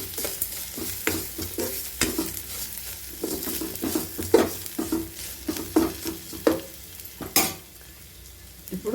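Small bitter gourds tossed with chili powder and salt in a pan sizzle steadily while a spoon scrapes and clacks against the metal in an uneven rhythm, close by, with no voices.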